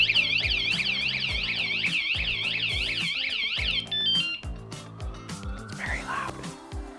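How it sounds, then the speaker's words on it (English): A loud anti-theft alarm on a Juiced HyperScorpion e-bike wails in rapid warbling sweeps for about four seconds, then cuts off into clattering handling noise and a brief rising tone. "if I persist in messing with the bike, the actual alarm sounds."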